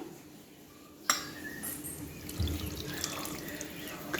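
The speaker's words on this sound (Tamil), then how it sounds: "இப்போ இந்த கருவாடில் கொஞ்சம் புளி ஊற்றிடுவோம்" Tamarind water poured into a pot of dried fish curry, a sharp clink followed by a steady trickling splash, close and fairly quiet.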